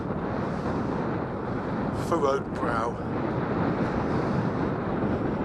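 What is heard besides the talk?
wind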